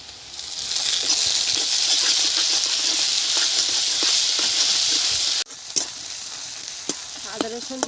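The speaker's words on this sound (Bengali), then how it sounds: "আদা রসুন দিয়ে দিয়েছি, 1 মিনিট ভেজে নিয়েছি।" Ginger-garlic paste fries in hot oil in a kadai, making a loud steady sizzle with occasional stirring clicks before the hiss suddenly drops to quieter scattered crackles.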